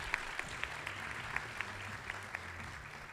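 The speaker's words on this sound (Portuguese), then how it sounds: "uma salva de palmas para o Celso." Light, sparse applause at a business panel as a guest is welcomed to the stage, a soft wash of clapping with a few distinct claps standing out, faint and somewhat distant, with a low murmur underneath.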